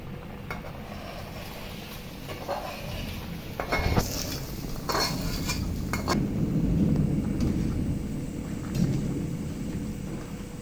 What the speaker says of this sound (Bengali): আমি এই বাগারটি আলু ও মাছের মধ্যে ঢেলে দিলাম।